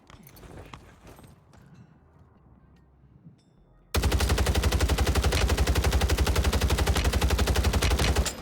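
Automatic gunfire with heavy recoil in the video game MW3 Warzone, a loud, close, relentless stream of rapid shots that starts abruptly after quieter footsteps and rustling and keeps firing without pause.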